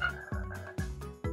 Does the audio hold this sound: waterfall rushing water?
no